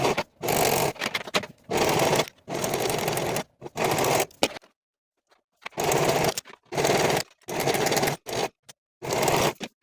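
A sewing machine stitches leggings side seams at a quarter-inch allowance in short bursts of rapid, buzzing motor whir, each run lasting about a second with brief pauses and one longer silence between, close and clear.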